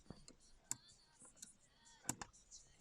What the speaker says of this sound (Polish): wydają takie charakterystyczne kliknięcie w swoich skrajnych położeniach